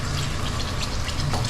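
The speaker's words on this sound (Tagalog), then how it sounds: "Lagyan na natin itong mga kaloko yung gata." Coconut milk pours steadily into a cooking pot, a continuous close liquid splash and gurgle with no talking.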